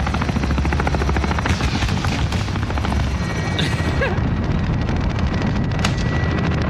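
A helicopter hovers overhead in the video game Call of Duty Modern Warfare, its rotor roar loud, dense and continuous throughout, with gusty wind-like rushes layered over the steady drone.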